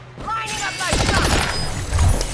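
Rapid bursts of gunfire from the Agents of Mayhem video game rattle continuously at close range, with a voice speaking briefly at the start.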